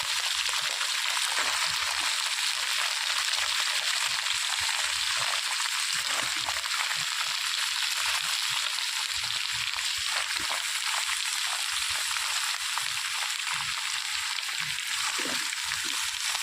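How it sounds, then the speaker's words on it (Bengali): Large-cut chopped cabbage fries in a pan, a continuous close hiss and crackle with faint stirring bumps underneath, no voices. "বড় বড় করে কেটে রাখা বাঁধাকপিগুলো আমি এর মধ্যে দিয়ে দিলাম।"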